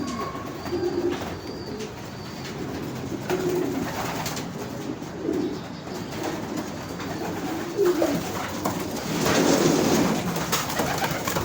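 Several pigeons coo in soft, low, throaty bursts, overlapping and repeating against a constant background murmur, close by.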